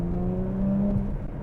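Jaguar F-Type 3.0 V6 supercharged R-Dynamic with its sports exhaust valves opened, a loud steady engine drone with a rising harmonic tone, close by and alone with no talk.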